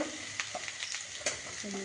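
Egg chowmein fries in a pan with a soft, steady sizzle broken by a few light clinks and stirring scrapes, quiet and close.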